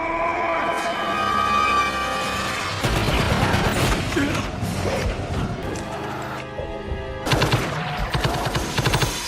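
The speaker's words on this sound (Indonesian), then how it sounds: "Situasi langsung kacau begitu Selen berbalas tembakan dengan para Lycan." A film scene of a gunfight in an underground subway station, with bursts of rapid gunfire, crashing impacts and mechanical clatter layered over a dense, chaotic soundtrack, loud and sustained with sharper volleys near the end.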